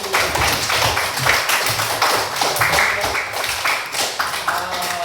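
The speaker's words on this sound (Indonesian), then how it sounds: "Tepuk tangan dulu untuk itu." A small audience in an Indonesian training session on building resilience claps steadily for several seconds, a dense patter of hands with some voices mixed in.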